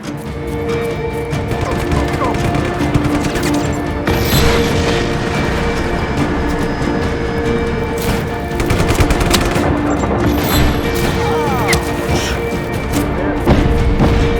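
Explosions and gunfire in the open-world action game Just Cause 3: loud, continuous rattling bursts with heavy booms, dense and close throughout with no talk.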